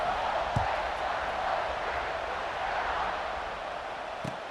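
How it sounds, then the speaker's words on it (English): Stadium crowd in the EA Sports College Football 26 video game buzzes steadily at a distance, a broad continuous murmur with faint scattered cheers and two small thumps, no commentary over it. "this crowd is buzzing after that last score"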